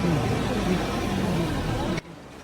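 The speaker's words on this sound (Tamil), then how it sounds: "அந்த லாரி கிராஸ் ஆகிறது எப்படி பார்க்குறா பாருங்க" A lorry crosses past on a road at the Tiruchendur temple, giving a loud, close, rumbling roar for about two seconds before cutting off abruptly to quieter background noise.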